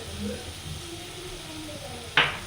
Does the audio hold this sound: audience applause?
no